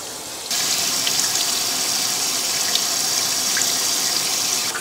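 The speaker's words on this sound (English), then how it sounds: "place it under the faucet." Water runs from a bathroom faucet over a shower filter cartridge being rinsed. After a brief quiet start it gushes in a steady, close, even stream that continues to the end without speech.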